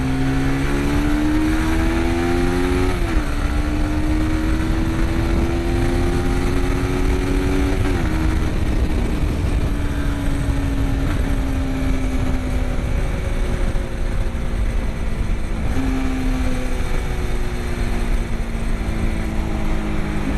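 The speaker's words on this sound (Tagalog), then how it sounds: "parang may road test ko lang yung motor ko" Suzuki Gixxer motorcycle out on a road test, its engine droning steadily close by for about twenty seconds, pitch rising and falling as it shifts through gears and changes speed, with wind noise and no talking.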